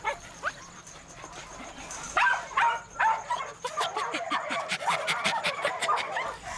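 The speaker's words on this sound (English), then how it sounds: "I can hear him barking" A dog in an orchard barks in a series of sharp, fairly distant yips and barks, with whimpers and brief human sounds in between, growing busier toward the end.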